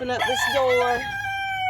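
Silkie chickens cluck and call inside a hen house, close and clear, with a short crow-like squawk, while a person speaks briefly over them.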